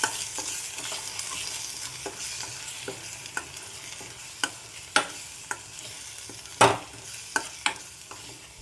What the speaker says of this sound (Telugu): అలాగే సాల్ట్, గరం మసాలా, ధనియాల పొడి, కొంచెం పసుపు కూడా యాడ్ చేసుకుని ఒకసారి కలుపుకోవాలండి.